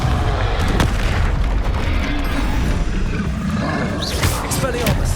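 A Confringo explosive fire spell in the Hogwarts Legacy game sounds as a dense, roaring blast with booming low rumble that holds steady across the whole stretch, with a few brighter flares on top.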